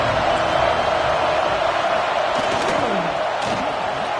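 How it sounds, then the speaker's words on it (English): Stadium crowd noise from an American college football video game, Texas A&M matchup: a loud, steady roar of cheering fans filling the whole stretch with no clear breaks. "This crowd bringing the energy and noise early."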